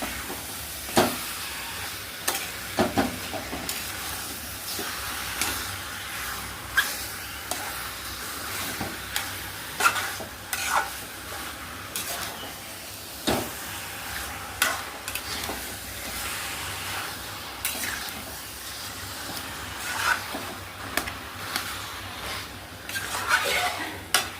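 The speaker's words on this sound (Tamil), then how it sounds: "நல்லா எல்லாத்தையும் ஒன்றா நல்லா அப்படி கிண்டி விட்டுருங்க." Spicy village-style chicken curry stirred in a pan, with repeated scraping and clinking of a ladle against metal over a soft background sizzle, steady and close, with no talking throughout.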